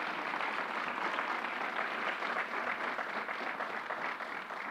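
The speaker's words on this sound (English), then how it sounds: "Let's give Carol Mason a round of applause." Sustained audience applause at a public event hosted by John Jay, steady and dense clapping from a crowd filling the whole stretch with no talk over it.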